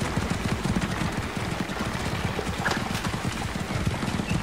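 Rapid horse hooves clip-clop in a steady, dense galloping rhythm, fairly loud and continuous throughout, in the video game Assassin's Creed: Origins.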